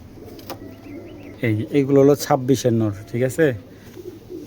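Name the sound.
German racing pigeons cooing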